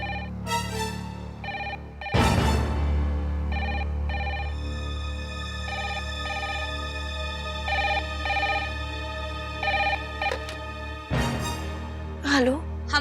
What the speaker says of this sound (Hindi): मैं देख कर आती हूँ किसका फोन है।